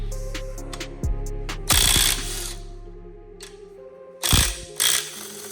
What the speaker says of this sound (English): now we're gonna bust the main caps off and get the crank out